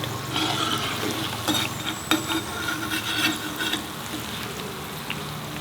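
Neureos, sweet Christmas pastries, frying in hot oil with a steady, dense sizzle and a few louder crackles and pops throughout, close up and without talk.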